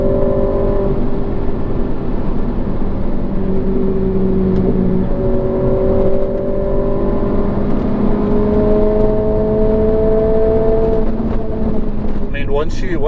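A Renault Clio RS or Abarth Punto hot hatch engine runs and revs, a loud, close, continuous drone with pitch rising and falling across the clip, and someone talking over it.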